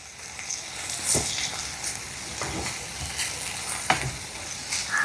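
Eggplant thoran with turmeric powder sizzles steadily in a pan while a spoon stirs it, with a few scraping strokes and soft knocks spaced through a constant close frying hiss and no voices.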